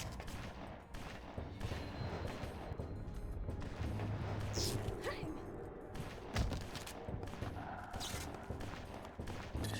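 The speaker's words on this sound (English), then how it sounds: "Somebody's shooting me right now." Rapid, dense gunfire from the 2002 PlayStation 2 game Bloodrayne, a sustained loud barrage of overlapping shots with heavier booms mixed in, running the whole stretch.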